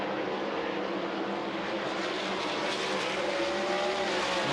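Race cars lapping at I-80 Speedway during a heat race, a dense, steady high engine roar from several cars with a rising whine near the end, heard from the grandstand.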